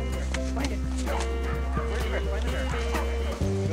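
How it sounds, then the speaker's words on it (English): Karelian bear dogs bark and yip in quick repeated bursts over a steady low rumble, with voices and other noise mixed in close by throughout. "Karelian bear dogs scare the bear far,"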